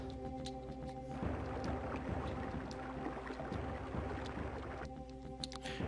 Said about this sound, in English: This water raises really, really fast.